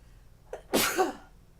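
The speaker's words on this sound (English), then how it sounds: "I'm about to sneeze." A single sharp sneeze from a banjo teacher, a brief intake followed by a loud burst, heard close and alone against a quiet room.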